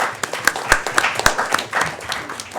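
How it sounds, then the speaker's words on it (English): Students at a high school gathering clap for the principals in a loose, uneven patter of individual handclaps, a few sharp claps standing out, moderately close and fairly light. "The students are clapping, too, for you."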